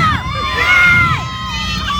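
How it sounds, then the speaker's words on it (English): A street-show crowd roars for a couple of seconds, with cheering, shrill screams and whistle-like tones rising over a dense, loud babble of voices. "clapping and cheering and screaming and whistling"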